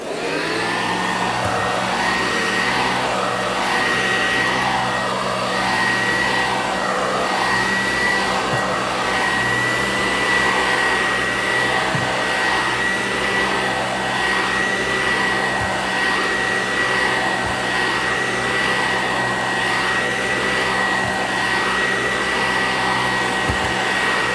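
A vacuum cleaner runs on commercial-grade carpet with a loud, steady motor whine and airflow roar. The drone holds constant throughout, with faint bumps from the passes, and no one speaks.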